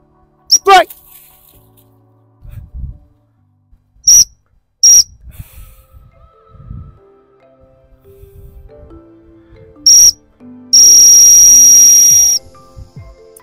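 A shrill hunting whistle is blown during spaniel training outdoors. Several short sharp blasts sound near and loud, followed by one longer sustained blast, with quiet movement and a voice between them.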